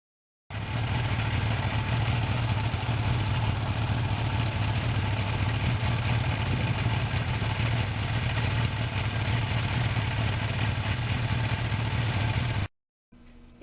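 A 1982 Suzuki GS1100E air-cooled motorcycle engine droning steadily while riding, with a loud, even low rumble and wind roar that keeps going and then cuts off abruptly.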